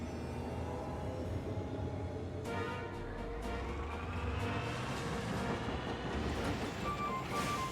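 A train runs in the video game Dragon Quest Treasures, a steady rumbling rail sound with some clanking, heard alone and moderately loud throughout.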